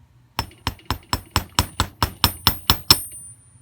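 A small hammer taps a handmade metal ear wire about a dozen times in a steady, even rhythm, each strike a crisp, bright metallic click close by with no talking.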